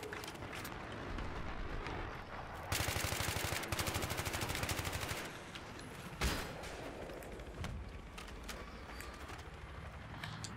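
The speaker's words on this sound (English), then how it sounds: "Who the fuck is firing on me now?" Sustained automatic gunfire in Battlefield 3, a dense rapid burst of shots mid-clip over a constant roar of battle noise, with a sharp single report afterward.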